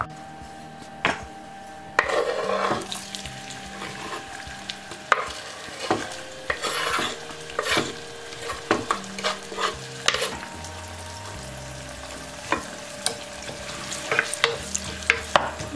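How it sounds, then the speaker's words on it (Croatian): Onion frying in a pot as the start of a speckled bean stew with pork hock, a steady sizzle broken by frequent stirring scrapes and utensil knocks close by, with no speech. "Najprije ćemo propržiti malo luk"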